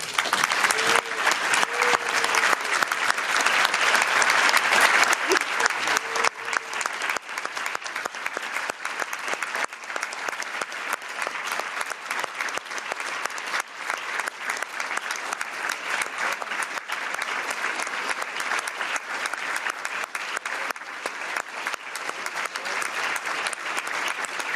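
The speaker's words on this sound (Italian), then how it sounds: "Tous ces applaudissements" A large audience at a European Parliament conference applauds in sustained, dense clapping that carries on loudly and evenly for over twenty seconds, with a few voices faintly mixed in early on.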